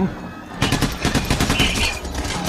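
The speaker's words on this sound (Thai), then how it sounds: "ยิงสิครับ ยิงแล้วครับ" Rapid automatic gunfire in the bank heist shooter PAYDAY The Heist, a loud, close barrage of overlapping shots that starts abruptly and keeps rattling in quick bursts to the end.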